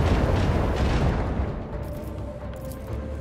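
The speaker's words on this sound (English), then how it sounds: "Macro cannons, open fire." Heavy booming macro cannon fire from the video game Warhammer 40k: Rogue Trader, a deep rumbling blast that slowly decays into a low roar, loud and without speech.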